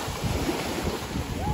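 Sea waves at Manora beach in Karachi wash in as a steady, close roar of surf mixed with gusty wind buffeting the microphone.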